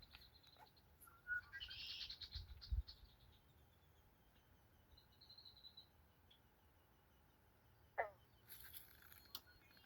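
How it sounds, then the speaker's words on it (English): A red-winged blackbird calls from a tree, giving short, bright chirps and trills at a moderate distance over a quiet outdoor background with faint insect sounds. "That red-winged blackbird right there,"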